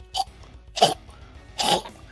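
A voice imitating a cough: three short, harsh hacking bursts spaced about half a second apart, close to the listener.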